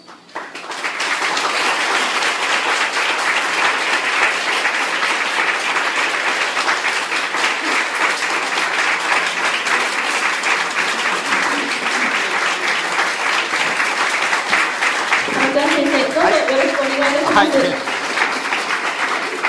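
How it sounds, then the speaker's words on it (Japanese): A Japanese lecture hall audience gives sustained, loud applause as a speaker is welcomed onto the stage, a dense continuous roar of clapping, with a voice briefly speaking over it near the end. "皆様盛大な拍手でお迎えください。"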